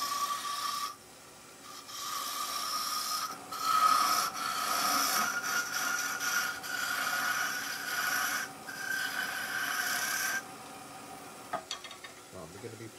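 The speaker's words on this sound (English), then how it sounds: "So this is just a spindle gouge. I'm just roughing down with it at the moment." Spindle gouge roughing down wood on a lathe while a Christmas tree bird box is turned, giving a steady scraping hiss in long bursts over a motor hum, with a few clicks near the end.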